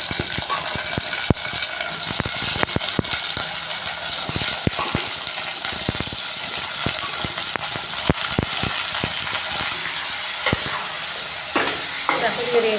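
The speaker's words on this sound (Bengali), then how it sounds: "তো এরপর আমি ঝিঙে আর আলুটা দিয়ে দেবো" Ridge gourd and potatoes hit browned onions frying in a pan, a loud steady sizzle with repeated sharp scraping and clacking as the pieces are stirred, close up, with occasional speech in the background.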